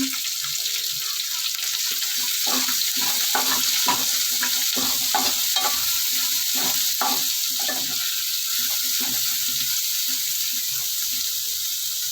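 Onions sizzle steadily in a pan for a tomato egg curry, with a constant bright frying hiss. Irregular scraping and clinking from a stirring spoon run under it.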